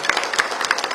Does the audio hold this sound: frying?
no